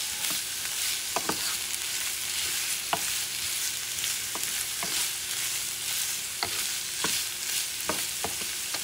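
Ham cooks in a pan for an omelette with a steady, bright sizzle and crackle, close by, with repeated light taps and scrapes of a utensil stirring through it.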